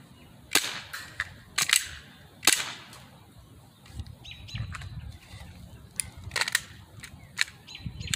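Airsoft gun firing a handful of sharp, snappy shots at irregular intervals, some in quick pairs, close and fairly loud over a quiet background.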